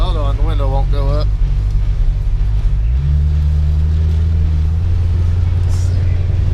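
A 215-horsepower car engine pulls away with a heavy, close low rumble that steps up in pitch partway through, while voices talk briefly at the start.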